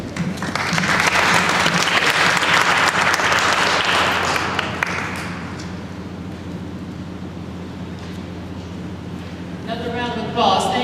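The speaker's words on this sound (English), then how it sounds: "Let's give the panel a round of applause." A large audience at a public roundtable meeting on violence prevention applauds a panel, a dense wash of clapping for about five seconds that thins into a lower, sparse patter, with a voice speaking briefly near the end.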